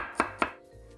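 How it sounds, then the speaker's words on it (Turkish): Two crisp knife chops through an onion on a cutting board, quick and close, in a quiet kitchen. "Soğanları da piyazlık dediğimiz şekilde doğrayacağız ama ince olmayacak."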